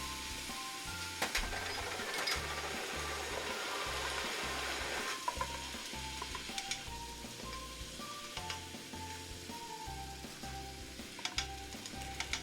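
Carrots and celery added to onions in a soup pot for spicy shrimp and sausage chowder, a soft steady sizzle with occasional stirring scrapes and a low rhythmic hum beneath, no speech.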